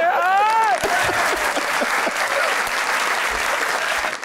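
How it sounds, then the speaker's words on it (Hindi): Studio audience applause on a Pakistani TV comedy show: a short musical sting rises at the start, then dense, loud clapping from the crowd carries on steadily. "वहाँ तालियां"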